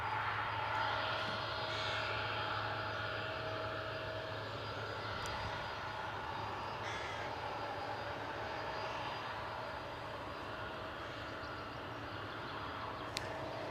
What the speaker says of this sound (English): So here's your next departure team. Off to Chicago.